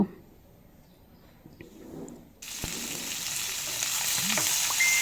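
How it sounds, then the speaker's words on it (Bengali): Fish frying in a kadai bursts into a loud, steady sizzle partway through, continuing close and bright after a quieter opening. "মাছগুলো আমার সব কড়াইতে দেওয়া হয়ে গেছে মাছের এক পাশ যখন ভাজা হয়ে যাবে আমি অন্য পাশটাকেও আমি ভেজে নিব"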